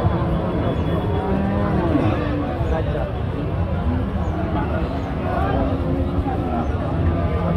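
Cows low amid a noisy cattle market crowd in Chaugachha, deep drawn-out moos rising over a constant babble of voices and bustle.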